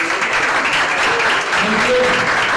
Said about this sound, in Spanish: Aplauso para Valentina